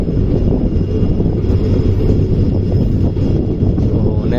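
The Shivamogga–Mysuru express, train 16226, rolls through Banavara railway station with a loud, steady, close rumble of wheels and carriages that continues without a break.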